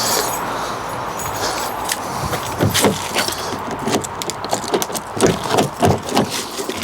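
Car keys for a Fiat 500C jangle and clink in hand up close, in a burst of sharp metallic rattles that grows busier toward the end, with no speech.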